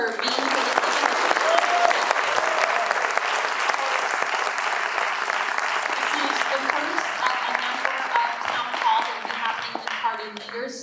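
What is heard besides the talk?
applause for Jagmeet Singh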